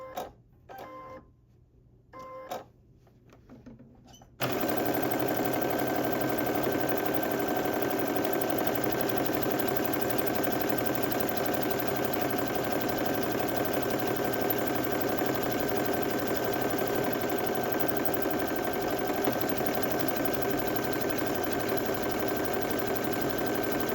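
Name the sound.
sewing machine stitching a buttonhole on a sweatsuit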